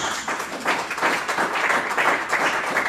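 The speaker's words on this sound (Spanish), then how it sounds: "Dele una ofrenda de palmas a Dios" A church congregation claps during a worship service, lively overlapping hand claps at moderate loudness that swell and continue steadily across the moment.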